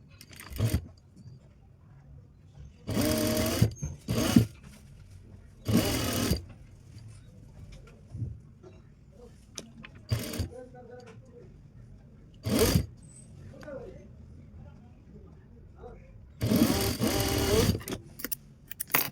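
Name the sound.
sewing machine stitching a V patti neck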